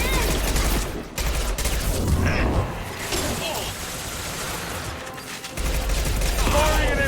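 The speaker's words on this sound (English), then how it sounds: "Firing an impact gun!" Impact gun firing in the game Mass Effect, a dense burst of loud, rapid shots layered over battle noise and music, continuing almost throughout with one brief drop near the end.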